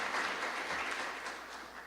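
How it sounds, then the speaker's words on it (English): A roomful of people applauds sponsors at a School of Social Work gathering: a dense, steady wash of clapping that fills the short stretch evenly and holds at a constant level. "So if we could have a round of applause for their"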